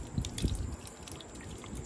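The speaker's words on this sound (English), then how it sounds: "it looks like it's dripping pretty decently down" Water trickles and drips inside a hydroponic vertical grow tower, with a couple of sharper drops early on over a continuous soft wet dribbling and gurgle, close and moderately quiet.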